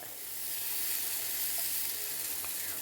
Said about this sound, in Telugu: ఆయిల్ వేస్తాను కొద్దిగా ఈ పెనము వేడెక్కింది కదా ఇప్పుడు వీటిని అంతా ఇట్లా వేసుకుందాము